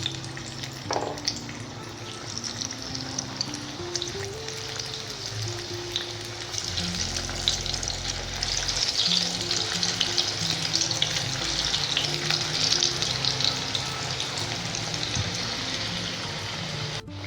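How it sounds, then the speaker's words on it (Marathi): Aluvadi rolls deep-fry in hot oil over medium heat, a continuous dense crackling sizzle with bubbling that holds steady throughout, close and fairly loud, with no voices. "या आळूवड्या आपण चांगल्या खरपूस सोनेरी रंग येईपर्यंत मंद आचेवर तळून घ्यायच्या"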